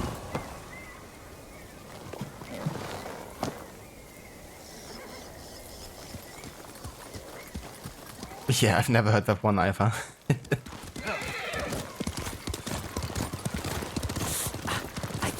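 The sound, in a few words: horse walking and neighing in video game Ghost of Tsushima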